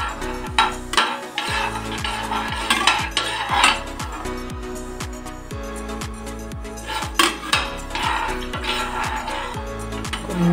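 Tempering spices are stirred in hot oil in a kadai for tomato rice, with a spoon clinking and scraping the metal pan in irregular taps under steady background music.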